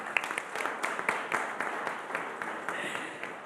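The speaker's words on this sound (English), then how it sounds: "Please give a round of applause to all of them." An audience at a real estate summit in Mumbai claps for a panel, a dense, even patter of many hands continuing for a few seconds at moderate distance, without speech.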